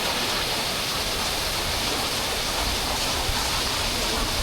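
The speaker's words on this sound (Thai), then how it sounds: "นี่น้ำตก" Sarika Waterfall in Nakhon Nayok, Thailand, gives a loud, steady, broadband roar of falling water that fills the clip evenly from start to finish, with no voices.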